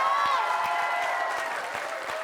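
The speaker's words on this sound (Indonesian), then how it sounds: "kita kasih tepuk tangan dulu yang buat Mas Tesi sama Leto." Brief applause and crowd noise from a studio audience on a comedy show, clapping mixed with voices and a melodic tone, fairly close and fading slightly toward the end.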